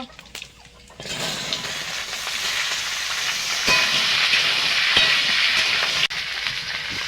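Winter vegetables hitting hot oil spiced with five-spice seeds in a wok, a sudden loud sizzle that settles into a steady, close hiss of frying with no voices over it.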